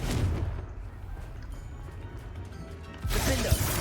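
A Confringo spell blast in the Hogwarts Legacy video game, with a loud rumbling burst at the start, a quieter stretch, then a second heavy boom near the end topped by a sharp crack.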